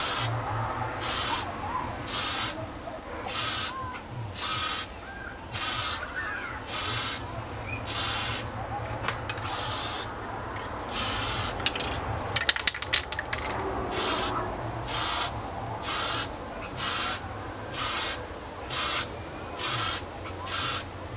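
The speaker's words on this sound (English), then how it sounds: "Just clear the can first and slowly apply the paint." An aerosol spray paint can coats Pulsar engine parts in a series of short, evenly spaced hissing bursts, about sixteen in all, close and clear, with faint clinks of handling between them.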